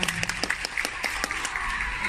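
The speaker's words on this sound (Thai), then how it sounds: "ปรบมือดรงๆให้กับน้องเฮาเฮาเลยนะครับ" Applause for HaoHao at a birthday fan meeting, a dense wash of many hands clapping with a steady busy texture, fairly near and even in loudness throughout.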